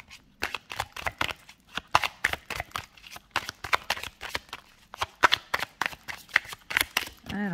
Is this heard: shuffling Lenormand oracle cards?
yes